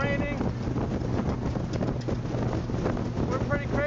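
Strong wind buffets the microphone atop the Stuttgart TV tower in cold, snowy weather, a constant close roar with gusty rumble throughout.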